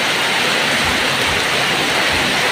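Heavy rain falls during a storm in Laos as a loud, unbroken wash of noise, close and steady with no other sounds.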